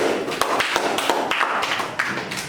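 Students in a middle-school science class clap together, a dense, continuous patter of hands with sharper accents, fairly loud and steady throughout.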